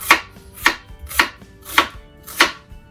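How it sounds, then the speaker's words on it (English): A knife slices through onions on a cutting board, five sharp evenly spaced chops about half a second apart, close and crisp with quiet pauses between. "Now when I cut the onions, I like to just slice them"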